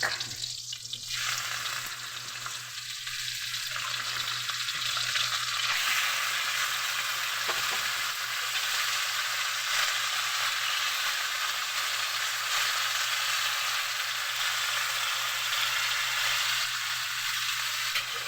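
Pork frying in a pan for a simple Filipino pork adobo, giving a steady, even sizzle that runs unbroken throughout with no voices.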